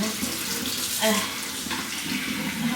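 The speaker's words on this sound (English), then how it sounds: "give it a little bit of a shower. But I guess this is how you wash the chicken." Tap water streams steadily over a whole chicken in a pan, rinsing it during home cooking for Chinese New Year, a continuous splashing flow with no talking.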